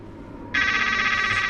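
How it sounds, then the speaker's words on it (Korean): A telephone rings in a film scene set in a hotel room: a quiet moment, then a sudden loud, steady electronic ring that holds until the end. "그리고 울리는 전화벨 소리."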